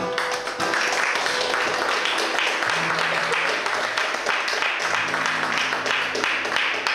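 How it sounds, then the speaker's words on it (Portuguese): A church congregation applauds, with sustained clapping from a crowd that stays steady and fairly loud, and a few voices mixed in. "Aplauda o Senhor."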